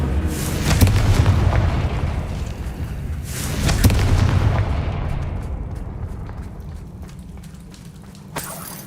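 Booming blasts from the Confringo spell in a Hogwarts video game roll out in two loud explosions followed by a long fading rumble and a small pop near the end.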